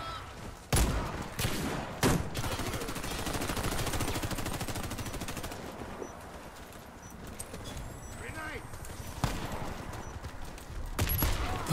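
Taurus Judge shotgun blasts in the online shooter Warface, heard as loud sharp booms at intervals over continuous gunfire and game noise, with someone commentating throughout.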